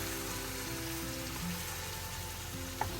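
Spice-coated food sautés in olive oil with a continuous soft sizzle and crackle, fairly quiet and close, with a faint clink near the end.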